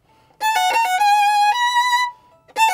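A violin played in first position runs a short finger pattern, a quick flurry of bowed notes settling into a steady sustained tone, then a fresh attack as the pattern starts again; clear, close and solo.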